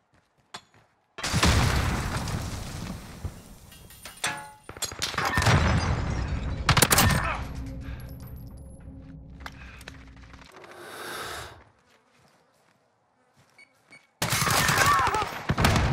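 Loud bursts of gunfire and a grenade-like blast in a first-person shooter match played with a 9mm AUG, with several heavy volleys separated by quiet gaps and a fading tail midway through.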